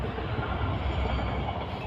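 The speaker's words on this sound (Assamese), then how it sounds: "এইটো ট্ৰেইন" A train rumbles steadily past close by near a block factory, a continuous heavy low-pitched roar of rail cars with no pauses.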